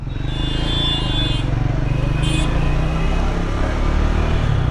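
A Triumph Scrambler 400 X motorcycle engine runs steadily and loud throughout, a constant low rumble with a faint higher whine, no change in pitch as it pulls away.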